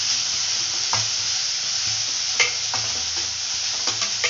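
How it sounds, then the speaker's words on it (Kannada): Onions frying with ginger garlic paste in a pan for a squid fry, a constant loud sizzle broken by several scraping strokes of a stirring spoon, with no voices. "ಈಗ ಈರುಳ್ಳಿ ಫ್ರೈ ಆಗಿದೆ. ನಾನು ಶುಂಠಿ ಬೆಳ್ಳುಳ್ಳಿ ಪೇಸ್ಟ್ ತೊಗೊಳ್ತಾ ಇದ್ದೀನಿ 1 ಸ್ಪೂನು."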